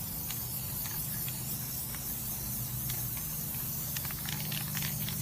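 Steady hiss of a spray paint can painting a light fixture, continuous and close, with faint rattling clicks scattered through it and no talking.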